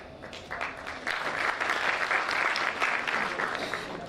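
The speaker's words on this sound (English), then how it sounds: "Can we have another round of applause?" An audience at a debate event breaks into steady applause, many hands clapping in a dense sustained patter that swells and holds for several seconds.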